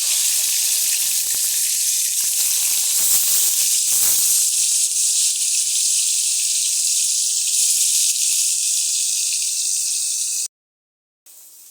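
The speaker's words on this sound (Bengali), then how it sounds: "4 পিস মাছ কড়াইতে দিয়ে নিলাম। এইভাবে একে একে করে সব কটা মাছ ভেজে নেব।" Fish pieces frying in hot oil in a wok, a steady loud sizzle with crackling that holds for about ten seconds before cutting off abruptly near the end.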